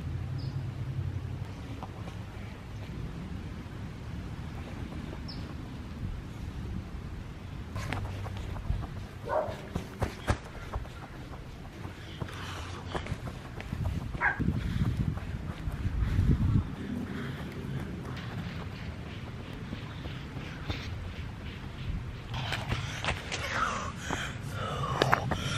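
Heavy, labored breathing of a person winded after exercise, steady gasping breaths and snorts repeating over a continuous low outdoor rumble, close to the microphone, with no talk.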